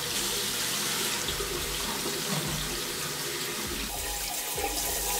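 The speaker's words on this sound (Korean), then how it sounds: "헹구면서 투명한 물이 나올 때까지 씻어줍니다." A makeup foundation brush rinsed under a running tap until the water runs clear, a steady, close rush of water splashing into a sink with faint shifts as the brush moves through the stream.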